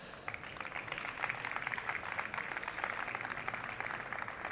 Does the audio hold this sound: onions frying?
no